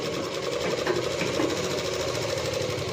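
A sewing machine stitches a seam on a Rajputi suit, running in a steady, continuous whirring hum close by with no pauses.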